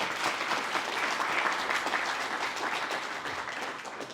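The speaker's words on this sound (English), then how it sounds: "Yeah, a round of applause to all of these units." Warm, steady crowd applause for Ukrainian military units at a charity foundation event, continuous clapping from a sizable audience at even volume throughout.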